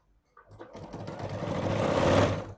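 A sewing machine stitching a quilted boxed pouch starts up and runs in a rapid, steady whir that builds in loudness over a couple of seconds, close and alone.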